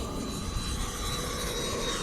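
Freewing Avanti S RC jet plane passing overhead, a steady faint turbine whoosh with a thin high whine, distant and alone for a couple of seconds.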